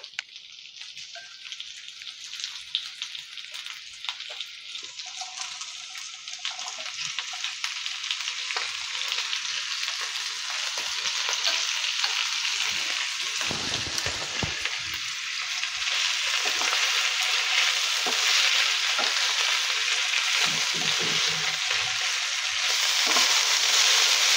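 Blanched vegetables, including broccoli for a stir fry, fry in a pan with a steady hissing sizzle that grows louder over time, broken by occasional stirring scrapes, close and without talk.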